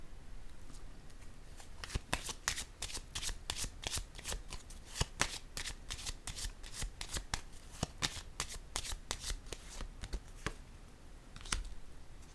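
Tarot cards are shuffled close by, a rapid run of crisp riffling snaps and flutters in quick bursts, fairly quiet with no voices.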